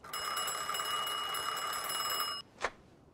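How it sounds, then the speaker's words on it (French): An old-style telephone in the Mafia II video game rings in one sustained metallic trill for about two seconds, then stops, followed by a brief click. "Il y a un téléphone."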